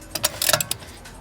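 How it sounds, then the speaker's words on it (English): A torque wrench clicks while a rear strut brace is tightened on a Mk2 Ford Focus ST track car, giving a few sharp, close metallic clicks in a short burst with no talk. "Is there anything better than the sound of a torque wrench clicking?"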